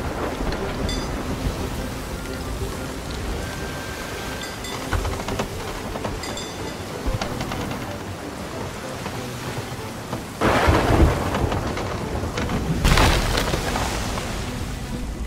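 Game thunderstorm at sea in a pirate video game: steady rain hiss with rolling thunder, and a louder crack and rumble swelling near the end, continuous and fairly close.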